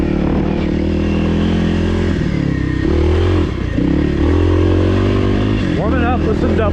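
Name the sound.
Kawasaki KLX300R dirt bike riding on singletrack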